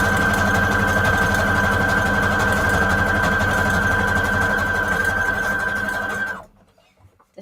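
A sewing machine stitching junk journal pages runs in a steady, loud, close mechanical whir with a constant pitched hum, continuing evenly for several seconds before stopping abruptly, leaving near silence.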